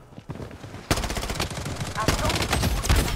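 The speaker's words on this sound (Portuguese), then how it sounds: "Isso aqui é o bot atirando, se eu não me engano." Bot gunfire in the video game Blood Strike comes as a quick, dense burst of automatic shots, loud and continuous with rapid rhythmic bangs, under occasional talking.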